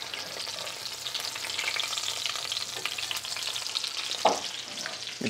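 Breaded chicken fries golden brown in a pan, a steady close crackling sizzle with a brief clatter of flipping near the end and no talk.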